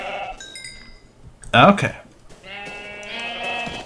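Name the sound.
sheep bleating in Minecraft, a video game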